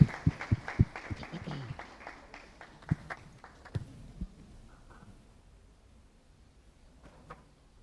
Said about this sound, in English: Can we have a round of applause for them as they come on stage?